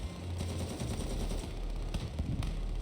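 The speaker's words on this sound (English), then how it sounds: "Where are you shooting, guys?" Rapid machine-gun bursts and scattered gunshots from a Honkai Impact 3 battle rattle on at moderate loudness, with sharper individual shots cutting through a continuous low rumble.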